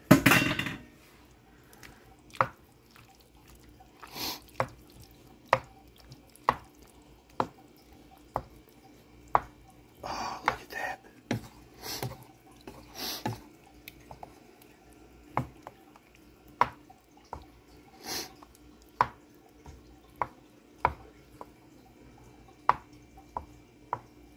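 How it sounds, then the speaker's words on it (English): Meat is stirred into a cooking pot, with scattered close clinks and scrapes of a utensil against the pot and occasional soft wet squishes at an uneven pace, no voices. "So, dump your meat in. And give it another stir."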